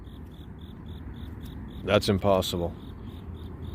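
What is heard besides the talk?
cricket chirping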